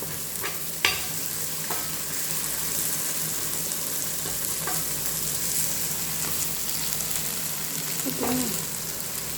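Chicken fries on a tawa with a steady broad sizzle, broken by a few clinks and scrapes as the pieces are turned. The sound is close and fairly quiet.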